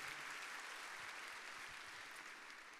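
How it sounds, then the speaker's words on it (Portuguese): A church congregation applauding during a worship service, steady dense clapping throughout that fades slightly toward the end, with no voices standing out. "vamos aplaudir todo mundo que está com a gente"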